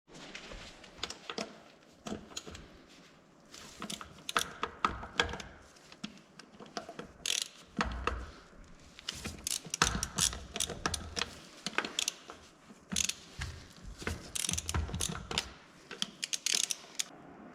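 A ratchet undoes bolts on a 4WD wheel hub, giving close, rapid clicking bursts of the pawl that come in uneven runs with short pauses, plus metallic taps and clanks throughout.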